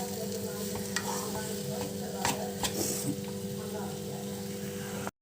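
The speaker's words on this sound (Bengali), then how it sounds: "ভালো করে এটাকে ভেজে নেব।" Samosa filling fries in a pan with a steady sizzle, broken by occasional scraping and clattering as it is stirred.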